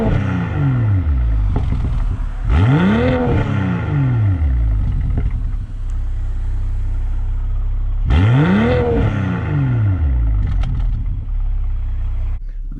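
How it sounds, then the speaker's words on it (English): A 2023 BMW M340i LCI with its iconic sounds setting enabled revs hard twice, each loud rising engine sweep falling away into crackling exhaust pops and bangs, heard from inside the car with no talking. "I'm gonna turn off my lapel mic so you can hear a little bit more of the pops and bangs inside the car."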